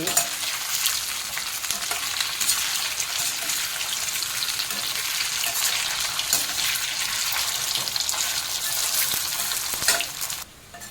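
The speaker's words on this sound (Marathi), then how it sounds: "आता आपण हे टाकूया चांगलं तेलामध्ये आपल्याला खरपूस भाजून घ्यायचं आहे" Alu vadi (colocasia leaf rolls) deep frying in hot oil until crisp, a loud steady dense sizzle with bubbling crackle throughout, easing off in the last moment.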